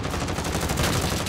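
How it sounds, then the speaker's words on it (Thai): Rapid gunfire from a sniper rifle in Call of Duty: Modern Warfare, a dense burst of loud, close shots packed tightly together with no voices over them. "โอเคผมยิงเจ็บไปละ"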